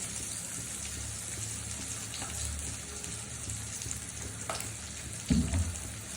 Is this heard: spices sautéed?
yes